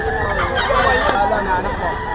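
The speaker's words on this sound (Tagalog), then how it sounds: "Puro banded yung mga manok ni Bossing. Bull Stag, mga kayami" Bull stag gamecocks, banded, for sale at a market in Bocaue: rooster crowing and clucking runs steadily for about two seconds, close and fairly loud amid a busy chorus of fowl.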